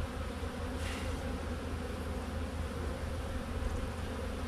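Honeybees buzzing on a hive frame during a swarm capture, a dense, steady, close hum with no voices.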